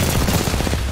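Rapid bursts of video game gunfire, dense and loud, with repeated shots crowding together in a steady barrage throughout.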